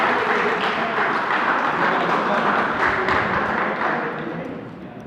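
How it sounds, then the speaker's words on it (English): Audience applause at a medical education lecture, a dense steady wash of clapping hands that carries on for about five seconds before thinning slightly toward the end. "So we'll give a good round of applause to him so that all are awake now."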